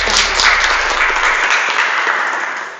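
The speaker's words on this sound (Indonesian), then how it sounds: "Oke, tepuk tangan untuk kita." A school class applauds itself before a lesson, a burst of clapping from many hands that fades slightly toward the end, with no talking over it.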